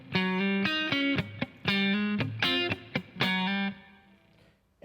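Distorted electric guitar playing part 3 of a song riff, a punchy run of short clipped notes in a syncopated rhythm, then one held note that fades, with no talking.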